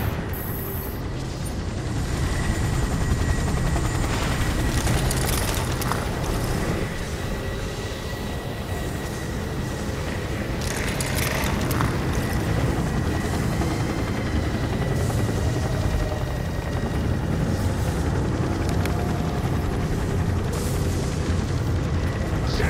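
A GCPD police helicopter in Gotham Knights on a frozen, icy Gotham City drones steadily and loudly as a continuous, unbroken rumble with scattered thuds and rattles over it.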